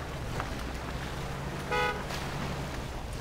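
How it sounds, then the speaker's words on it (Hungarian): A brief in-game truck horn honk from the off-road driving game Spintires MudRunner, heard once over a steady engine rumble, fairly short and moderately loud. "Folyamatosan dudálunk, mint a bolondok."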